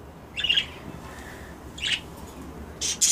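Budgerigar chicks give a few short, close squawking chirps in separate bursts, the last one sharper and louder, over a quiet indoor background with no talking.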